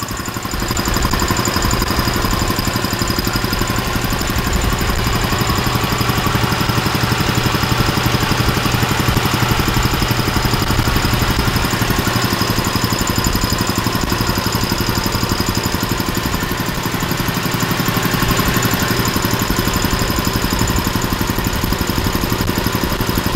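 A restored electric motor from an air compressor runs steadily at close range, a loud continuous hum with a fine rhythmic vibration that holds constant throughout, with no voices.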